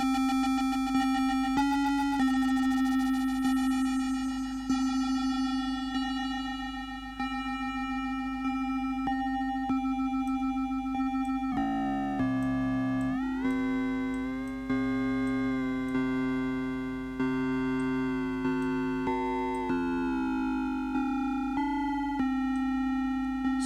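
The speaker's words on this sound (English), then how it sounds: "So we can really start making those bell-like tones, those metallic." Sustained metallic, bell-like synthesizer tones made by phase modulation ring out with bright overtones, holding steady at first, then bending and shifting in pitch midway before settling again, repeatedly retriggered over a constant low hum.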